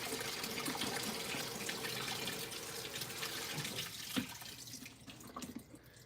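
Water pours steadily into a washing machine during its wash cycle, a close, continuous splashing hiss with faint drips, then it thins out and quiets near the end.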